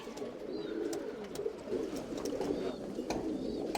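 Tumbler pigeons in a loft, several birds giving soft, low rolling coos that overlap continuously at close range, with a few faint higher chirps and light knocks scattered through.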